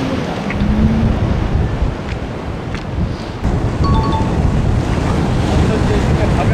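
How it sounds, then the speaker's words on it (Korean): Ocean waves washing in at the Chujado fishing spot in Korea, a continuous rough surge of surf mixed with strong wind buffeting the microphone, loud and close with no talk. "파도가 이렇게 하는데 갑자기 이렇게 들어왔어."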